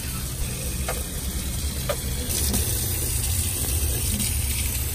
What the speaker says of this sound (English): It's just water right now.